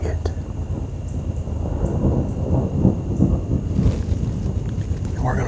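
Thunder rumbles through a thunderstorm over open hunting ground, a low continuous roll with steady rain and wind noise, loud and sustained with no clear separate claps.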